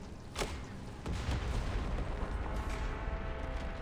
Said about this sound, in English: This is sudden earth-splitting pop, followed by a thundering explosion of rocks splattered across her armor